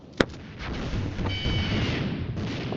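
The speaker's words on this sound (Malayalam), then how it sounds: "റോക്കറ്റ് കൊണ്ട് തീരാനാണ് അതിന്റെ വിധി" Rocket explosions in the Mini Militia video game: a sharp blast near the start, followed by a continuous rumbling roar of further booms and bursts.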